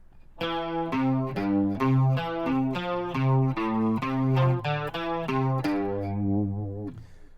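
A heavily processed electric guitar through a Line 6 Helix, using a dual pitch effect and a Port City 412 cabinet model, plays a bright, pitch-doubled melodic riff of evenly spaced notes, loud and alone, ending on a sustained chord.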